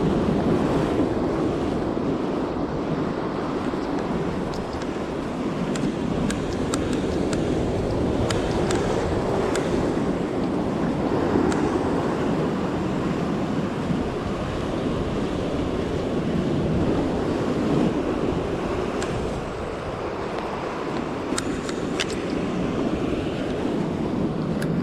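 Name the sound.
incoming tide waves on Cornwall rocks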